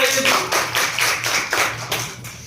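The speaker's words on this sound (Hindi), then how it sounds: "हाँ तो जोरदार ताली बजाओ" Students clapping loudly together at a school science quiz competition, with a rhythmic group clap in roughly regular bursts, close and full in a room.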